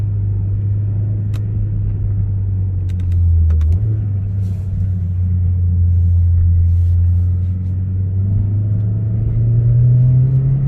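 The engine of a 421-hp A45 S rumbles steadily up close, a deep low drone that swells briefly and rises in pitch toward the end, with no voices.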